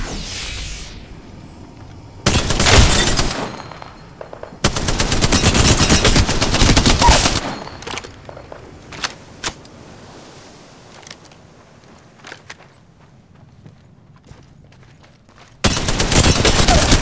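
Gunfire in the video game Apex Legends: loud, close bursts of rapid automatic fire in several long volleys, separated by scattered single shots and quieter gaps, with no talk.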